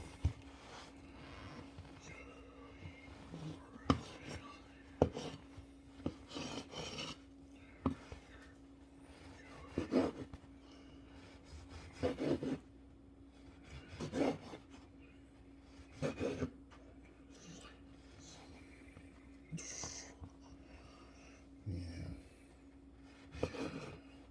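A knife saws through bread being cut in half for rustic croutons, making quiet, repeated rasping strokes in bursts with short pauses and a faint steady hum underneath.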